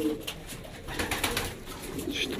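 Racing pigeons coo softly in a loft, low repeated calls close by over a faint rustling background with no talk.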